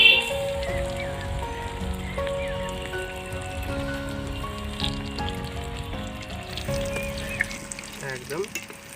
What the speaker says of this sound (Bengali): এই যে আস্তে আস্তে এবার আমি তেলের মধ্যে টেবিলগুলো ছেড়ে দিচ্ছি। ছেড়ে দিলে এগুলো ভেজে নিতে হবে।